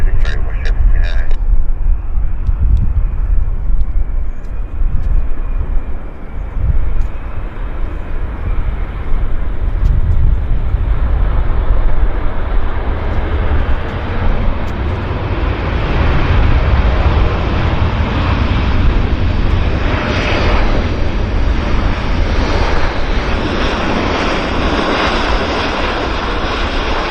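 An airliner on short final, landing at Vancouver Airport behind a Dreamliner, gives a broad, loud jet roar that swells and holds for a long stretch, with radio voices talking over it.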